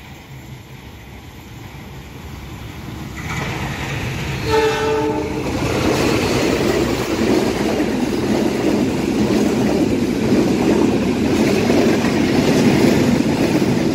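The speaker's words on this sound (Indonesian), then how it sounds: "Dari arah timur kereta api Argo Lawu KA 13." The Argo Lawu executive passenger train from Solo to Jakarta Gambir passes at Lempuyan, its horn blaring briefly before a steady, loud rumble of wheels and carriages rolling close by.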